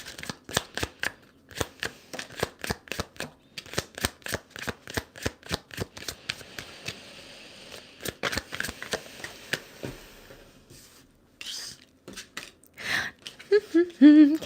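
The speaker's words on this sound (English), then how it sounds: "Let's shuffle." Tarot cards riffle and snap in quick repeated bursts, close by, a rhythmic shuffling that slows near the end as a voice begins to speak.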